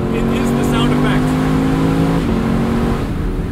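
A 2022 Lexus LC 500 Convertible's engine revs in a loud, steady, throaty roar that holds, then drops in pitch partway through. A faint voice may sit beneath it.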